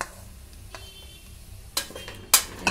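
Carrot pieces tumble into hot ghee in a pressure cooker, giving a couple of sharp clattering bursts against the metal after a quiet kitchen background.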